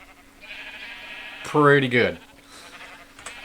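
Sheep packed into a Minecraft wool farm give a short burst of loud, wavering bleats over a low game hum, with someone talking before and after the calls.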